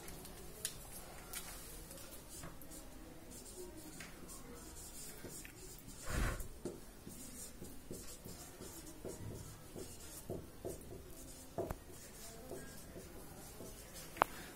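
Pen scratching on paper while a chemistry definition is written out, steady faint strokes and taps continuing for many seconds, with a soft knock partway through and quiet room tone.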